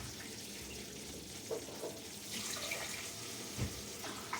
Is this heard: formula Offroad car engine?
no